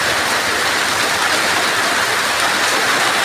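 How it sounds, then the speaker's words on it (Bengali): Steady rain falls in a continuous, loud wash of broadband hiss with no breaks, close and even throughout, no voices. "বৃষ্টি হোক, এই বৃষ্টির লেগে মানুষে কত হাহাকার করছে।"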